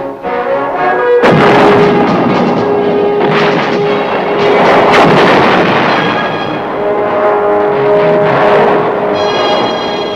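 A heavy mortar fires during an army crew drill: loud, broad booming blasts with a sustained rumbling roar across the whole stretch, close and dominant, with no speech.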